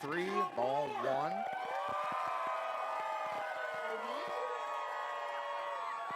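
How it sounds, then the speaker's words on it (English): A crowd of Portland Pickles fans cheers and whoops along the first base line at a minor-league baseball game, a steady roar of voices throughout, with shouts rising over it and an announcer talking at the start. "Look at those Pickles fans cheering on down the first base line."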